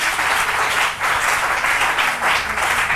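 A church congregation applauds during a sermon, dense, loud clapping from many hands that swells in rolling waves over three seconds, with no voices over it.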